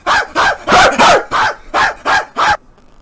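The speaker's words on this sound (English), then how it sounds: "Dumbass dog, man." A dog barks eight times in a quick, steady series of loud, close barks, then stops, leaving only faint room noise.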